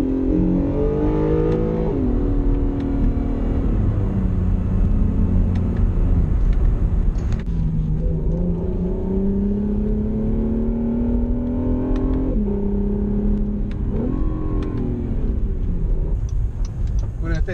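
Acura NSX sports car engine accelerating on a test drive in Malibu, California, a loud steady rumble that rises and falls through gear changes across the whole stretch.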